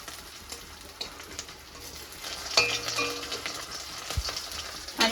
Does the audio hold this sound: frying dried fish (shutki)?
yes